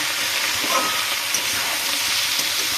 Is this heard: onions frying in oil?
yes